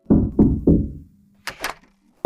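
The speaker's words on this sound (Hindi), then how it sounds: "जैक धीरे से विशाल लकड़ी के दरवाजे पर दस्तक देता है।" Three heavy, evenly spaced knocks strike a huge wooden door in a cartoon, each booming and then fading, followed by two brief, sharper sounds after a pause. No one speaks.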